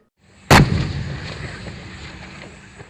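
A single heavy tank gun shot booms sharply, followed by a long rumbling echo that slowly fades.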